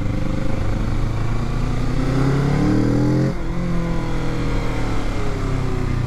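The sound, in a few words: Kawasaki Z650 motorcycle riding on test ride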